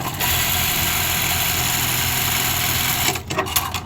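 A buttonhole sewing machine, triggered through its lifter pedal, whirs steadily and loudly up close for about three seconds, then stutters into a few uneven clunks and mechanical knocks.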